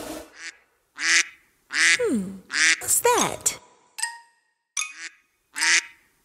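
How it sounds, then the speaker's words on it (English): Ducks quack in a run of short, loud, nasal calls with brief gaps between them, heard close up, along with a voice asking a question. "Ducks."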